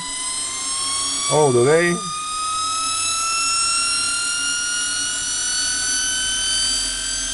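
A small homemade pulse motor built from a universal motor rotor, driven by PWM, runs with a steady high whine made of several rising tones, while a voice briefly speaks over it near the start.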